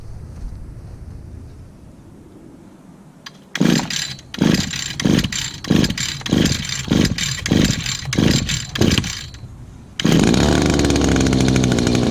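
An Echo or Stihl small two-stroke engine is pull-started repeatedly, about eight rhythmic bursts of sputtering, then catches and runs loud and steady close by.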